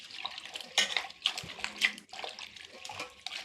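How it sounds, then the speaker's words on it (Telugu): Nalleru stalks are washed by hand in salted water, producing close splashing and sloshing in bursts with a few light knocks against the container and no speech. "వాటర్లో సాల్ట్ వేసి వీటిని బాగా వాష్ చేసుకోవాలండి"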